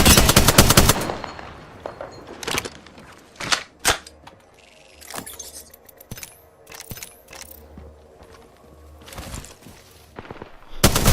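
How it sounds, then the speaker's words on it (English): Gunfight in the Apex Legends video game: bursts of automatic weapon fire open loudly, followed by scattered single shots and short volleys at varying distances over quiet background game ambience. "So as you can see right here, we heard a lot of gunfight."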